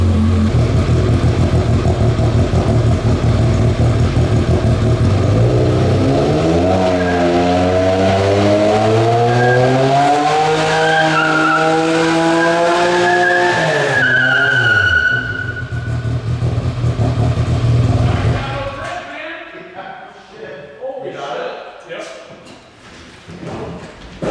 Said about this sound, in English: I didn't realize it was the tire spinning.